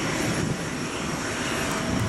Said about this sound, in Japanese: 飛行機がゆっくり動き始めて、風の音が少しだけ強くなります。